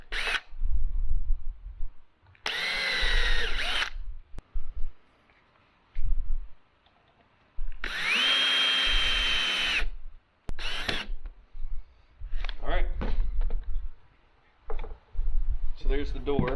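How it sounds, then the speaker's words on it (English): A power drill whirs in several short bursts of a few seconds each, drilling a hole in scrap wood through a hinge, separated by pauses with brief clicks and quiet handling sounds. "then drill a hole"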